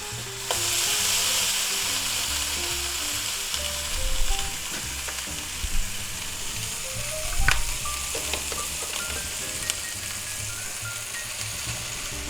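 Onions, tomato slices and a burger patty fry in a cast iron skillet with a loud, steady sizzle, broken by a few scrapes and taps of a spatula as the food is flipped, no voices.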